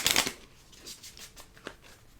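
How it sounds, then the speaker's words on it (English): A deck of cards being shuffled, a quick riffle burst at the start followed by faint, scattered flicks and taps, quiet and close. "So while we shuffle"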